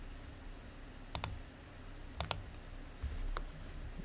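Computer keyboard keys clicking during drafting software work: a few isolated sharp taps, some in quick pairs, close and crisp over a low steady room hum, with no talking.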